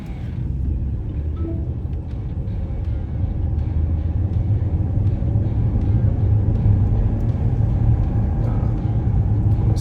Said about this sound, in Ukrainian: Зараз у нас швидкість 17 км на годину і 3, 2, 1 ми стартуємо